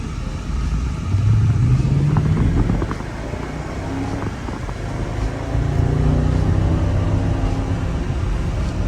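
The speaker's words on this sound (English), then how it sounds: "Oh, so that's what a factory AMG exhaust sounds like." A 2006 Mercedes SL55 AMG on its factory exhaust pulls away and accelerates, a deep, fairly restrained engine note rising in a steady surge, close by with some wind and road noise.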